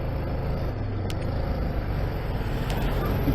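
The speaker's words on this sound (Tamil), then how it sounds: "ஃபுல் அண்ட் ஃபுல் டிராஃபிக் தான்ப்பா" Traffic with slow-moving trucks crawls along the narrow curves of Zojila Pass, a dense, steady engine rumble close by, with a faint voice under the noise.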